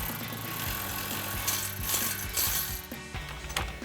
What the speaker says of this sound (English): Now next I'm going to get a 15mm socket on a ratchet to try to spin this out the other side.